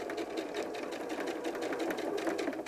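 A sewing machine stitches fabric for 18-inch doll clothes, a backpack, with a steady, close, continuous rapid whir of the needle running without a break.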